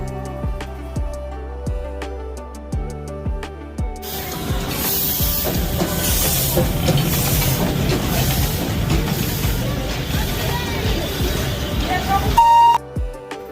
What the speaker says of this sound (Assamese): এয়া কয়লা বা ভাপ ইঞ্জিন।